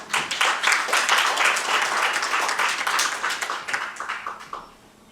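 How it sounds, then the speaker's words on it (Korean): Audience applause at a Korean national welfare ceremony for people with intellectual and developmental disabilities, following an award citation: a dense, steady wash of many hands clapping, loud and sustained, tapering off near the end. "축하의 박수 부탁드리겠습니다"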